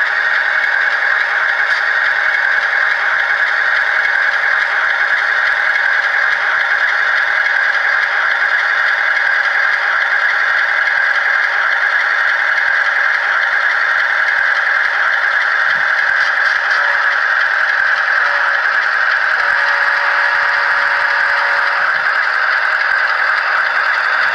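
A model train locomotive creeps along at its lowest speed step, giving off a steady, close mechanical whir with a continuous fine rattle. The sound stays even throughout, with small clicks near the end and no voices.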